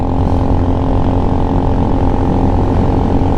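A new Venom X22GT 250cc automatic motorcycle cruises on a freeway, its engine a loud, constant droning buzz blended with heavy wind rush, steady and close throughout without speech.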